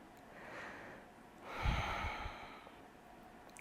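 During a yoga class for runners, a slow breath is drawn and released in warrior two, soft and close, with one fuller exhale standing out over quiet room tone.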